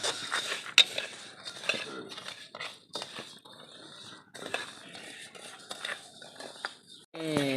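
Rice is dry-roasted in a pan and stirred, with close scraping and clinking of a utensil against the pan in irregular strokes, and a brief voice near the end.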